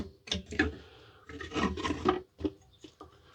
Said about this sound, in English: all we do is slide the action into position